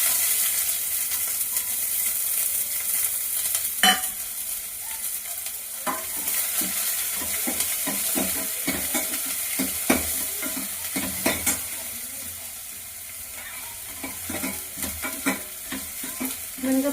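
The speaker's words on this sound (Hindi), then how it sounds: "डालूंगी मैं इसमें जीरा, प्याज डाल दूंगी" Cumin seeds and onion frying in hot oil in a home kitchen pan, a steady sizzle punctuated by sharp scraping and clacking strokes of a spoon stirring through, close and moderately loud with no talking.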